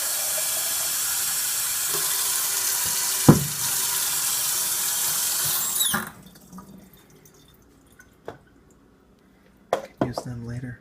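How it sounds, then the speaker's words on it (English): Tap water runs steadily into a plastic cup at a kitchen sink, loud and close for about six seconds, then stops, followed by a few faint clinks and drips. "just a cup of tap water in a plastic cup"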